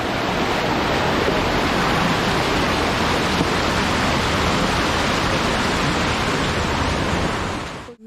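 Water pours down Dudhsagar waterfall in a forest. It makes a loud, steady, broad roar that fills the whole stretch unbroken, then cuts off abruptly at the end.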